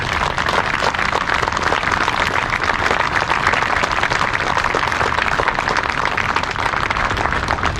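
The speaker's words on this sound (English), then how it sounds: "Let's give them a round of applause." A steady round of applause for veterans and Purple Heart recipients at a Veterans Day ceremony in Stamford, Connecticut, a continuous, even patter of many hands at moderate level.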